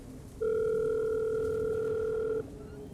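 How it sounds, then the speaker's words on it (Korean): A phone call being placed from a mobile phone to another mobile: a loud, steady electronic tone holding for about two seconds, then cutting off, with faint background hiss around it. "자기 휴대폰으로 아버지에게 전화를 걸기 시작했다"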